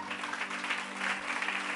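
Church congregation clapping for the Lord during a Marathi sermon, a steady, dense burst of applause from many hands held at an even level throughout, with no voices over it.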